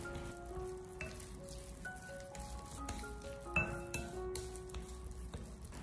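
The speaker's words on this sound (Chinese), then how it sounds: "用筷子给它同一方向不停的搅拌，将所有调味料充分的化开。" Chopsticks stir minced meat filling in a bowl, giving light scattered clinks and soft wet scraping at close range over a steady tonal background, with no one talking.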